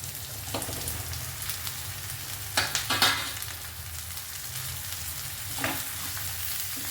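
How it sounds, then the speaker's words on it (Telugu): Okra sizzles softly and evenly in a pan, with a few brief clattering stir strokes of a utensil against the pan near the middle and again toward the end, no talking. "బెండకాయలు వేసి ఇవి ఫ్రై కానివ్వాలి."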